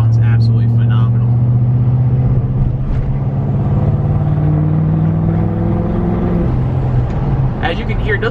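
An L5P diesel truck fitted with an S369 SXE turbocharger runs at close range, a steady deep engine drone with a turbo whine on top. Someone talks over it.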